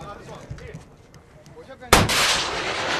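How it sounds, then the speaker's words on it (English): A tank fires on a suicide truck bomb near Mosul with Iraqi forces, and a single sudden loud blast hits after a quieter stretch of background noise, then a sustained roar follows. "A tank fired at a suicide truck bomb before it could wreak its havoc."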